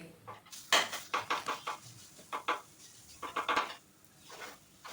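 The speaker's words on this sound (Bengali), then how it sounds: "ডালের পেস্টটা দেওয়ার পর কিন্তু কন্টিনিউ নাড়তে হবে, যাতে নিচ থেকে পোড়া না লেগে যায়" Utensil scraping and clinking as moong dal paste is stirred in a pan over low heat for kachori filling, a series of close, irregular clattering strokes with brief pauses.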